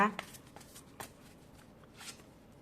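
Tarot cards are shuffled and spread out by hand, with soft papery riffles and flicks in a few short bursts, faint and close.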